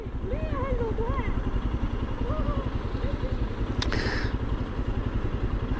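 A Royal Enfield Scram 411 or Himalayan motorcycle engine runs on the road with a steady, loud thumping beat that rises slightly as the throttle opens, while a rider talks over it.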